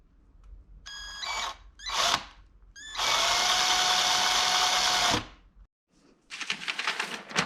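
A power drill drives screws into a wooden toy kitchen set, with short whirring bursts and then a sustained loud drilling run of about two seconds, followed by a few rattling clicks.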